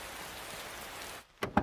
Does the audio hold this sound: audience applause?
no